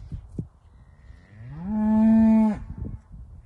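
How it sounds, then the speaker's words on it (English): A single cow lets out a loud, drawn-out moo lasting about a second, close by, with faint rustling and ambient outdoor noise before and after. "All these cows. Oh, they're angry."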